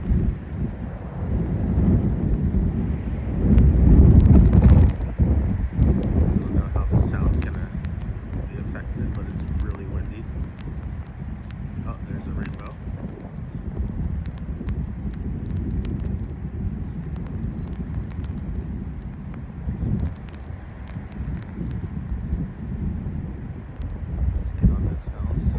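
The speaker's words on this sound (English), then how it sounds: "Pretty windy today." Gusty outdoor wind buffeting the microphone with a continuous low roar that peaks early and then settles, with faint clicks and knocks from flooring work underneath.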